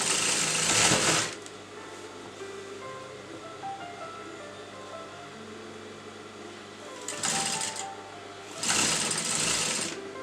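A sewing machine runs in short bursts while stitching lace onto a kurta, loud buzzing runs at the start and near the end separated by a quieter stretch of background hum.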